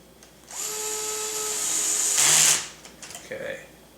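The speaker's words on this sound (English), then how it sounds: "3 more screws here and we'll have this tail boom support area in place." A small electric screwdriver drives a screw into the tail boom support of a Trex 550L helicopter, whirring steadily for about two seconds, rising to a brief louder buzz, then stopping amid small handling clicks, close up.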